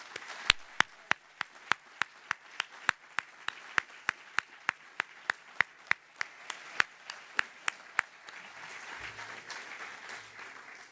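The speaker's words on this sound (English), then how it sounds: "please stand up and receive a round of applause" Applause for the organizing team at the closing session of a 2013 conference: sharp, evenly spaced claps in a steady rhythm, loud and close, fading into soft room noise near the end.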